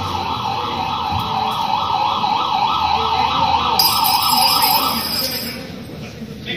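Wailing emergency sirens from approaching police, a steady rising-and-falling tone that holds loud throughout, joined midway by a second, higher siren before fading slightly near the end, with no talk over it.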